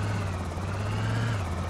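A helicopter in the video game Project Zomboid gives a steady, low rotor drone for a brief moment, fairly faint and heard on its own.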